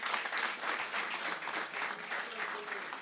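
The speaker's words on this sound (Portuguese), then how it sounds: "uma grande salva de palmas para o Salu." Audience at a live comedy show gives a comedian a round of applause, a sustained, even wash of clapping at moderate level throughout.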